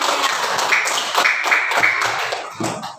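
A group of children clapping their hands in a classroom, a brisk, somewhat ragged patter of claps at close range, with a few stronger bursts.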